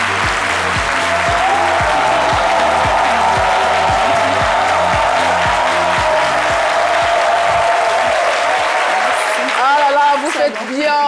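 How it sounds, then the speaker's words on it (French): A studio audience applauds loudly to welcome Nicole Kanga onto a midday TV set, sustained dense clapping over a rhythmic music bed, with a voice briefly breaking through near the end. "Nous allons donc la recevoir avec de vives ovations sur ce plateau"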